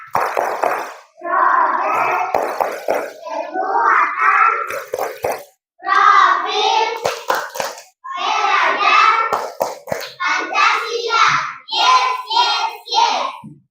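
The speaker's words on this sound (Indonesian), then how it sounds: "Kita tepuk profil Pancasila 1 kali." A primary school class in Indonesia performs the Pancasila profile clap: children chant in unison in short bursts, with sharp hand claps mixed into the rhythmic chanting, close and loud.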